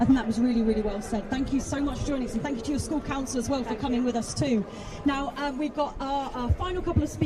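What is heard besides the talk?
No everyday noise stands out behind the speech.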